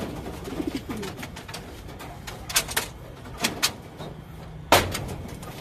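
Pigeons coo in soft, low bursts, mixed with several sharp flutters or clattering knocks, one louder thump near the end.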